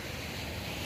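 Gentle sea waves wash steadily on a fairly calm sea, a soft continuous hiss of surf mixed with light wind noise, brief and even.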